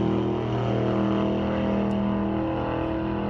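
A 1988 S10 drag truck roars off the starting line at Mission Raceway Park, its engine a loud, sustained, droning blast that dominates throughout.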